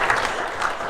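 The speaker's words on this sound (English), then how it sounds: "a round of applause for Carol" A crowd at a Rotary club lunch in Melbourne gives a brief, steady round of applause, the clapping dense and close throughout.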